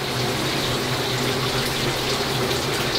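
A home shower running: a steady, even hiss of spraying water, close and unbroken, with no voices.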